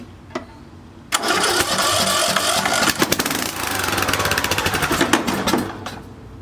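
A junked John Deere mower engine, loosely mounted, is cranked and catches, then runs loud and rough with uneven sputtering pulses after a single brief knock at the start, with no talking.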